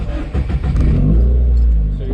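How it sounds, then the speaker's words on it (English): A car fitted with a modified Tome exhaust revs during a highway patrol traffic stop, its deep engine note swelling and holding steady under people talking nearby. "Yeah, your exhaust is modified."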